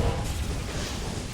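Diablo's fire nova attack in a Diablo II mod, a short, dense whooshing burst of fiery noise with a low boom at the start, loud and alone.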